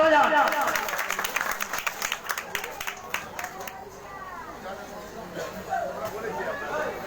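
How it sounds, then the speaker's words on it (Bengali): Audience applause at a blood-donation event, a burst of loud clapping that fades into scattered claps and crowd murmur, with talking heard throughout. "জোরে হাততালি বাজান।"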